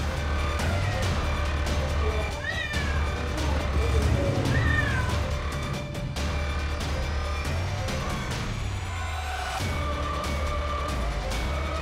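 Cats meow repeatedly in an animal rescue setting where many sick cats are kept, the cries rising and falling over a steady low hum, with a siren-like tone and faint background voices.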